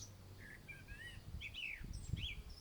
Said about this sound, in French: et plus vous entendez le chant des oiseaux